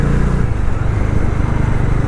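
A Bajaj Dominar 400 motorcycle with an annoying engine noise gives a loud, close, steady rumbling drone that holds unbroken throughout.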